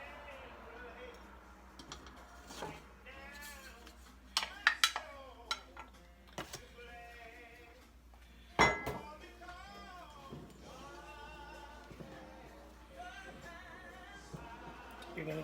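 Heavy cream and flour stirred together for two-ingredient biscuits in a bowl, with soft scraping and occasional sharp clinks of a utensil against the bowl, fairly quiet and intermittent beneath someone talking.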